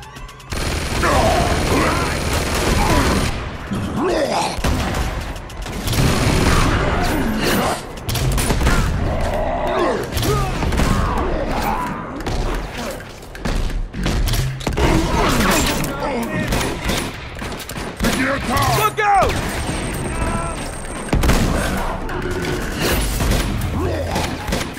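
Dense gunfire in a firefight from the Uncharted 2 video game, with rapid bursts, automatic weapon fire and crashing impacts running nearly nonstop, loud and close throughout, mixed with shouting voices.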